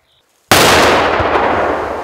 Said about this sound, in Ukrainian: Вибух був досить потужним.